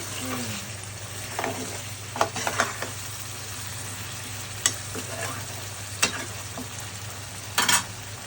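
Curry braising in a pan, with a constant low sizzle of frying beneath scattered scraping and clattering stirs of a spoon against the pan, close and fairly quiet, with no voices.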